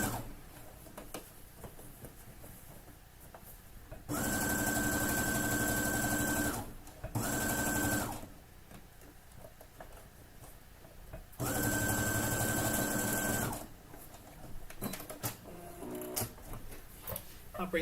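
A sewing machine stitches a drawstring bag in two longer bursts and one short burst, each with a fast whirring hum and a steady tone, while a person speaks quietly in the gaps between runs.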